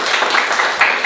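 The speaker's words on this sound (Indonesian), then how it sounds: "Silakan tepuk tangan" A group claps hands in applause, a dense, close, steady patter with a few louder bursts, lasting about a second.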